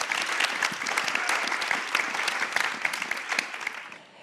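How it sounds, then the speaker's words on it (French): Audience at a French talk show breaks into loud, sustained applause, dense steady clapping filling the room for the whole stretch with no voices on top. "Je propose qu'on l'applaudisse hyper fort."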